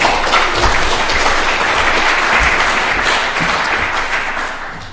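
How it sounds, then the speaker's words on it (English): An audience at a medical grand rounds book launch gives a sustained round of applause, loud and dense throughout before tapering slightly at the end. "Spontaneous round of applause for Paul."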